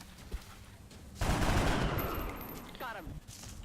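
Gunfire from a soldier in the turn-based strategy game XCOM: Long War, a loud broadband burst that opens about a second in and rings out gradually, with quieter game effects before and after.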